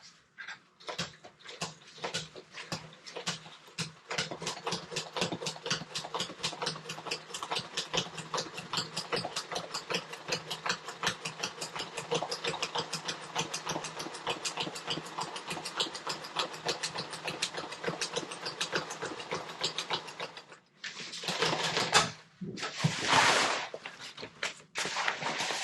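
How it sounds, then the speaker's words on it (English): A sewing machine set to its lowest speed stitches through thick sail material for a 110% jib sail for a Com-Pac 16. It runs as a steady, rapid mechanical chatter for about twenty seconds, then stops and gives a few short bursts. "I've got it turned down as low as it'll go and still sew through this thick material."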